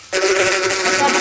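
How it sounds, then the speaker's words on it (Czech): A bee buzzes close by at a zoo, a sudden steady, fairly loud drone that starts abruptly and holds for about a second. "Tady je včelka."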